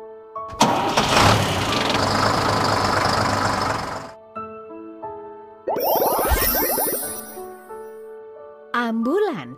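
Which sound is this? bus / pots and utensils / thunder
bus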